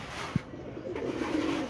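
Pigeons cooing in a rooftop loft kept for pigeon-flying contests, soft low coos close by over a faint ambient background, no speech.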